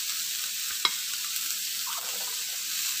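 Carrots and beans stir-frying in a pan for egg noodles give a steady broad sizzle throughout, with one sharp utensil clink near the start, close and even, without talk.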